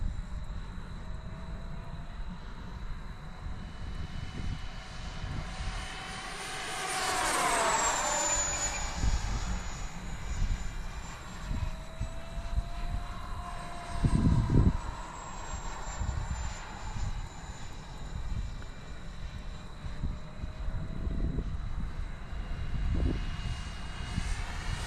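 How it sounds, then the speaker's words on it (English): A Freewing T-7A 80mm EDF RC model jet flies overhead, its high-pitched ducted-fan whine rising and falling as it makes repeated passes, loud throughout against outdoor background noise. "This is my favorite Freewing jet"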